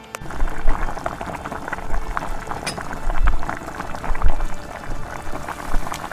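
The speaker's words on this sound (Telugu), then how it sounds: "పొంగొచ్చేంత వరకు ఉడకపెట్టుకోవాలి." Milk boils for double ka meetha, bubbling and popping in an irregular, lively patter as it rises in the pan, close and clear with no voices.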